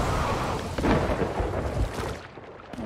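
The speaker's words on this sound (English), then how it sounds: "Yeah. There's a storm brewing." Steady roar of rain and rolling thunder from a storm on the open sea in a pirate ship battle game, loud and continuous with no talking.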